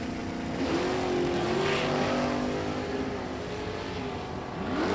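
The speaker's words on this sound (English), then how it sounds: "Bob Rossello in the right lane dialed 568 in his first gen Camaro." Race cars at a drag strip, including first- and second-generation Chevrolet Camaros, roar steadily at close range with a sustained engine drone and rising pitch sweeps, loud throughout and with no talk over it.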